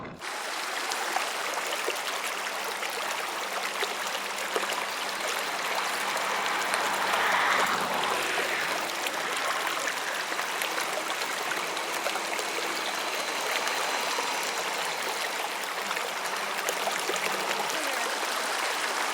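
Steady broadband rush of a flowing river, constant and fairly close, with no voices over the continuous water noise.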